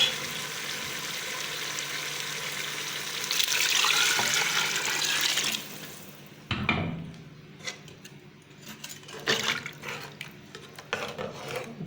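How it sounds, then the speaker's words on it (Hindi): Water pours steadily into a pressure cooker of chickpeas for several seconds, then stops, followed by a few clinks and knocks of metal cookware. "और अब मैं इनमें पानी डालूँगी।"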